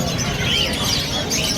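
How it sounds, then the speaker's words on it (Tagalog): Pigeons and other birds at the Malabon pet market chirp and call in short bursts over a dense bed of market hubbub, with faint crowd murmur in the background. "Ang kalapati na hindi lumilipad."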